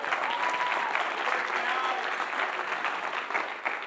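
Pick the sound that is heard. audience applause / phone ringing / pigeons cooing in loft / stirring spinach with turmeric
audience applause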